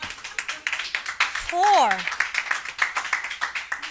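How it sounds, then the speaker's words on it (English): Scattered, rhythmic clapping from an awards ceremony audience, moderate and fairly close, with a brief voice breaking through in the middle. "You know I'm going to ask for a better applause"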